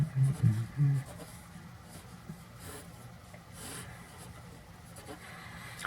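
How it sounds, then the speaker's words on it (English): A pen scratches steadily across paper as three graphs are drawn by hand for a kinematics lesson, soft and close, with a brief low hum at the start. "So let me just draw the 3 graphs."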